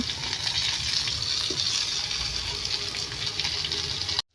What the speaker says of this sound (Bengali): সেজন্য প্রথমে বেগুনগুলো ভেজে নেব